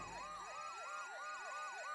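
A home security alarm in the South Park: The Fractured But Whole video game wails continuously in a rapid, repeating up-and-down siren sweep, steady and loud with a high whine behind it.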